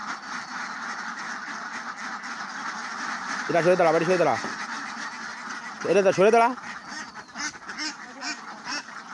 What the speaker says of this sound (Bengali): তো দেখেন হাঁসগুলো সুন্দরভাবে কিন্তু সব বেরোয় যাইতেছে